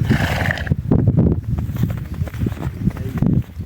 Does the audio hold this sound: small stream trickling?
no